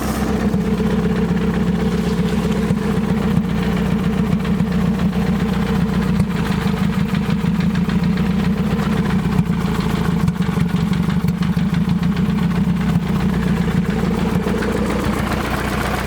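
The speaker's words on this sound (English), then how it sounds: "she's running pretty consistent." A car engine fitted with an eBay turbo and upgraded cams idles steadily, a loud, even low rumble with a slight lope, holding consistent for the whole stretch with no talking.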